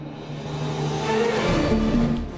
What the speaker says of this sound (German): Der Audi R8 e-tron kann auf dieser Runde seine ganze Power zeigen.